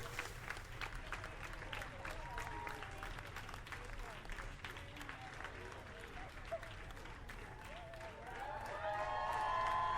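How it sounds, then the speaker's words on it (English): Sustained clapping from a game crowd in Slay the Princess, dense and continuous at middling loudness, with some background murmur and a brief tonal rise near the end. "See, look, everyone's clapping."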